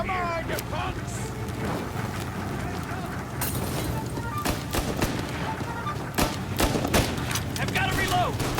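Gunfire rings out in Mafia Definitive Edition as a string of sharp, irregular shots and bursts over a busy background of engine and wind noise.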